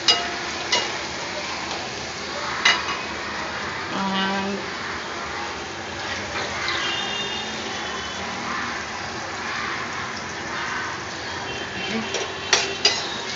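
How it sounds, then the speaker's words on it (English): Drumstick pods cooking in a pan for an Indian vegetarian besan dish are lightly stirred, with a steady sizzle and soft scraping throughout and a few brief clinks of the utensil against the pan. "Just a light stir."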